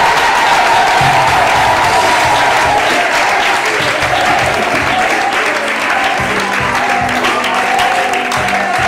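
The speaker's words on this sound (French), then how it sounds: "On acclame Jésus!" A crowd at a French-speaking Christian testimony gathering applauds and acclaims Jesus. Loud, steady clapping fills the whole stretch, with some voices mixed into the din.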